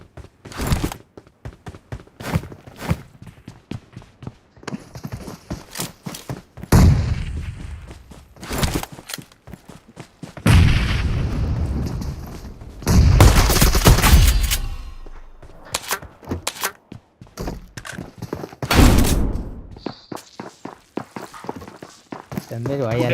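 Gunfire crackles in a close-range video game fight, sharp bursts and single shots scattered among thumps and footsteps, while players talk excitedly over the action.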